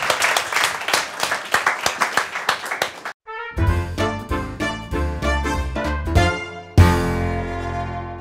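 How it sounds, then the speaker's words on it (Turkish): Studio audience applause on a Turkish late-night talk show, a burst of claps lasting about three seconds, then giving way to a band playing rhythmic music with sharp accented hits. "Alkışlıyoruz Esra"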